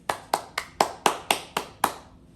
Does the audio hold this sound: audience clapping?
yes